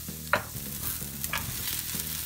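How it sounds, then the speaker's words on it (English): Onions stir-fried in a pan for a tofu mushroom noodle dish, with a steady close sizzle and a couple of quick scraping tosses, no voices. "Time to stir fry. Throw in your onions. Give it a good toss."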